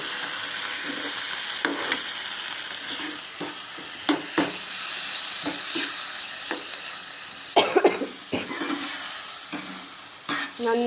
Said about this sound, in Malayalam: അതിട്ട് നന്നായിട്ട് ഇളക്കി കൊടുക്കുക.